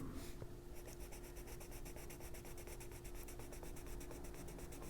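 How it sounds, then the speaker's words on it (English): A black pencil colors on paper in an adult coloring book, giving steady, close scratchy strokes in a quick repeating rhythm with no talking. "we're just going to take our black pencil"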